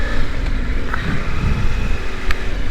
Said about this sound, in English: Let's see how we get past all this machinery and trucks.